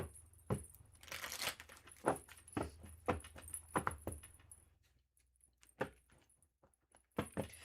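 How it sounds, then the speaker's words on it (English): Tarot cards being shuffled vigorously, a series of quick riffling and slapping bursts in uneven clusters with short pauses between, close and fairly quiet. "Let's give those a really good shuffle."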